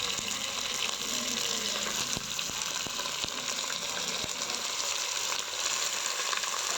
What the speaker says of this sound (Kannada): ಚಿಕನ್ ಹಾಕಿ ಸ್ವಲ್ಪ ಹೊತ್ತು ಎಣ್ಣೆಯಲ್ಲಿ ಫ್ರೈ ಮಾಡಿಕೊಳ್ಳಿ.